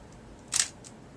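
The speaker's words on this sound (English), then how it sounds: "That's a non-digital mechanical shutter." A single crisp mechanical click of a film camera shutter, close and sharp, over a faint quiet background.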